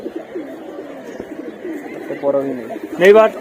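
A silver Bagha pigeon coos close by in low, rolling bursts, with a louder call near the end, while a person talks over it.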